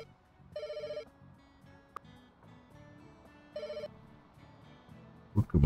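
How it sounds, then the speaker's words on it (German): Telephone ringing in the Pets Hotel video game, two short electronic ring bursts a few seconds apart over soft background game music. "Dann gehst du ans Telefon."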